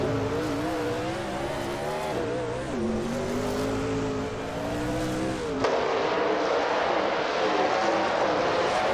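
Engines roar continuously in a racing video game as cars, including a vintage 2011 Toyota Tundra truck, drive close by. The loud, steady whine bends in pitch through shifts and revs, then swells sharply partway through.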